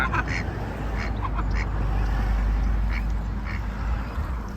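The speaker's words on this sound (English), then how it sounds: "Oh, look. Flying ducks." Several ducks quack at close range on the Ards Peninsula near Port Devine. Repeated nasal calls come in irregular bursts over low, steady outdoor rumble.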